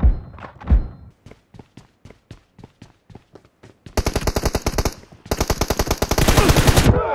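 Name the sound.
gunfire in a video game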